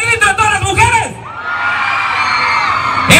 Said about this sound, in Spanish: A ver el grito de todas las mujeres